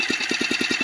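A Phatmoto Rover 79cc motorized bicycle engine idles up close, a quick, even putter of about ten firing pulses per second over a steady mechanical hiss, with no voices.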